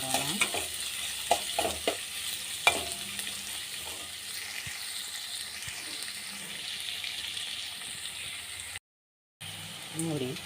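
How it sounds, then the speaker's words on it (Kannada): Onions fry in a pan for upma, a steady soft sizzle with occasional stirring scrapes and clinks, a brief dropout near the end. "ಈರುಳ್ಳಿ ಎಲ್ಲವನ್ನು ಹಾಕಿ ಚೆನ್ನಾಗಿ ಫ್ರೈ ಮಾಡೋಣ."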